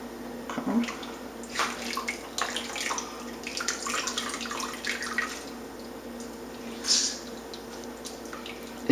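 Grated coconut squeezed hard by hand releases coconut milk in wet, splashy bursts that drip and trickle into a bowl, close and uneven in rhythm, with no talking.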